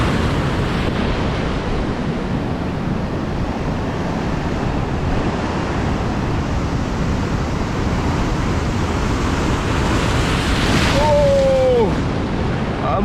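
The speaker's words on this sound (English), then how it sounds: "The waves them gigantic." Huge ocean waves break and roar continuously on an Australian shore where someone is fishing, a loud steady wash mixed with wind buffeting the microphone.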